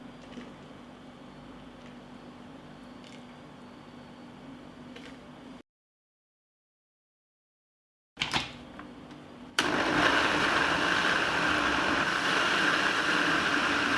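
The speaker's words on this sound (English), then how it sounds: "now I will grind them in a blender" Kitchen blender grinding boiled plums, a steady motor drone that cuts out for a few seconds, then restarts and runs louder and harsher at full speed, no talking.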